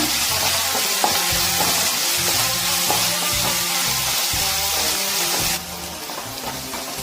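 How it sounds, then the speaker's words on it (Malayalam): Mussels (kadukka) sizzle and crackle steadily in a hot pan while a utensil stirs them, producing loud continuous frying noise with scraping strokes that eases slightly near the end. "നന്നായിട്ട് മൂപ്പിച്ചെടുക്കുക."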